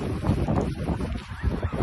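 Blustery wind at a campsite buffets the microphone with low, rumbling gusts that rise and fall throughout.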